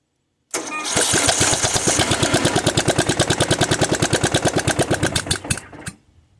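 A Murray riding mower engine running on choke, loud and close, its rapid steady firing pulses going for about five seconds before it cuts out, with no talk over it.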